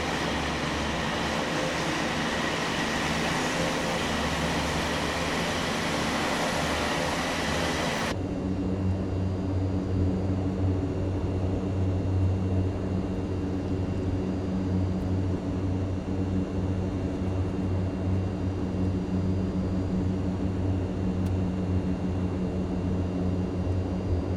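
The engines of a Mitsubishi MU-2 turboprop just after landing, giving a loud, steady droning hum with a strong low tone. The sound stays continuous throughout, and its bright upper hiss drops away about a third of the way in.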